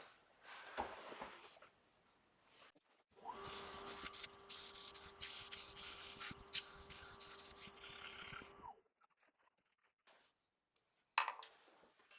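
Sandpaper rubs a turned wood art piece spinning on a lathe, a steady, close, hissing scratch with a constant motor tone underneath that runs about five seconds, with quieter rustling before and after.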